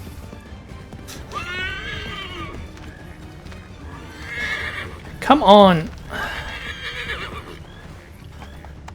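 A horse in the video game Assassin's Creed 3 whinnies loudly with a rising, wavering neigh, while hooves clop and people talk around it.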